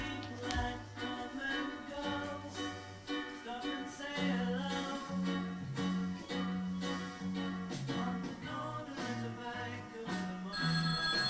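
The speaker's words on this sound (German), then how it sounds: "Telefon!" A telephone rings repeatedly indoors, a steady patterned electronic ringing that carries on for several seconds at fairly loud level, with no voices over it.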